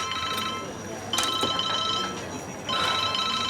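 A telephone rings in an indoor domestic scene, two electronic ring bursts with a short gap between them, moderately loud, with people talking quietly underneath.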